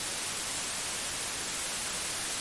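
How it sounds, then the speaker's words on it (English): Steady white noise, a constant broadband hiss that stays even and loud throughout with no variation or other sounds. "white noise"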